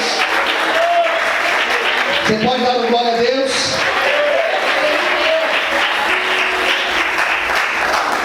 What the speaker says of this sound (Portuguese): Você pode aplaudir o Senhor, aleluia.